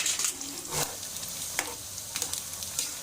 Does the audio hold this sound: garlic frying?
yes